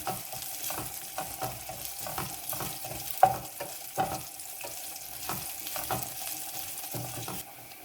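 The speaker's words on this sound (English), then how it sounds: "half a teaspoon of zira is perfectly fine for the amount that we're making. Like that. Let it fry and get a bit brown." Cumin seeds fry in a small amount of oil, giving a steady close sizzle with soft crackles and occasional stirring taps, and no one talking.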